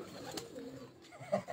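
Pigeons coo softly from a rooftop, low murmuring calls repeating close by, with faint rustling and a brief louder coo near the end.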